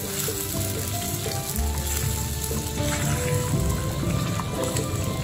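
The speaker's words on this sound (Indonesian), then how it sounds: "kita kacau sehingga cili ni pecah minyak" Chili paste for sambal tumis fries in oil while being stirred in a pan, a steady close crackling sizzle with scraping under it and no talk.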